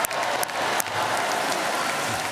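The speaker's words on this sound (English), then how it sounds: "Applauding himself." Dense applause from a parliamentary chamber, a steady wash of many hands clapping throughout with a few sharper bursts near the start, loud and continuous with no break.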